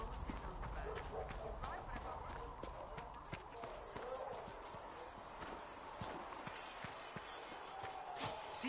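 Horse hooves clip-clop in a steady, quick rhythm on the road, mounts in Dragon Age Inquisition, fairly faint and continuous beneath other game ambience.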